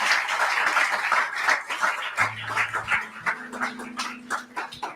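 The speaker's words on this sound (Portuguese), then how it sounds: "pode aplaudir mesmo." A church congregation at an evening communion service claps in an uneven, rhythmic burst, with a low held tone sliding upward beneath the applause partway through.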